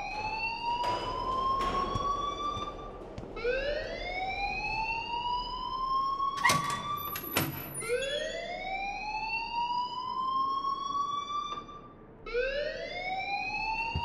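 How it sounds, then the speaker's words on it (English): A school fire alarm in the video game Life Is Strange wails in repeated rising sweeps, loud and continuous, with a few sharp clatters partway through and no speech. "please turn off that alarm since that's your job"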